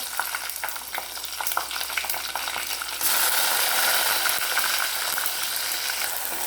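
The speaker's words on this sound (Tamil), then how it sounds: "கருவேப்பிலை சேர்த்து பொரிச்சோடனே பூண்டு சேர்த்துக்கலாம்" Garlic fries in hot oil with curry leaves, a crackling sizzle with stirring scrapes that suddenly swells into a louder, denser hiss partway through.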